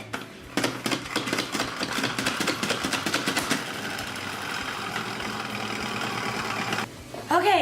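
Salad spinner whirring as freshly rinsed thyme is spun dry in a home kitchen, a steady rapid rattling spin that starts and winds down, with a brief voice at the end.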